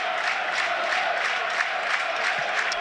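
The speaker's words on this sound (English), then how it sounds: "Noise from the Norwich crowd." Football crowd noise from Norwich supporters at a Norwich versus Burnley stadium match: a steady, dense roar of many voices with rhythmic swells of chanting, continuous throughout at a constant loud level.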